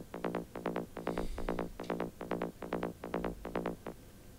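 Plain psytrance bass line layer from a synthesizer, a loud rapid rolling pattern of short punchy pulses in groups of three, steady and mechanical, alone with no voices.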